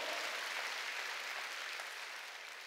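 A church congregation applauds steadily during a Sunday worship service, a dense, even wash of many hands clapping that fades slightly toward the end.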